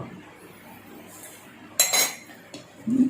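Thai mixed spicy salad, yam ruam mit, tossed in a bowl with utensils, a muffled stretch of mixing broken by sharp metallic clinks and scrapes of utensil on dish near the end.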